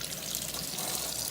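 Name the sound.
rinsing a foot detox array under running water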